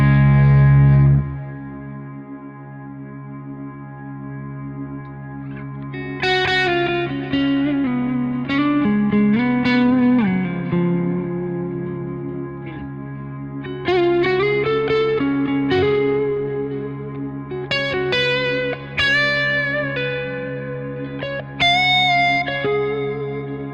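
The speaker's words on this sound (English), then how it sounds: "you've got a freeze for your reverb" An electric guitar plays slow melodic notes over a frozen, sustained reverb drone from a reverb freeze effect that holds a steady chord underneath, lush and echoing, with no talking.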